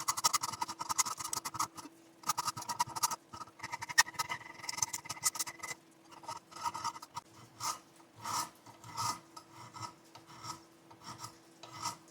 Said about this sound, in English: I am going to finish up this filing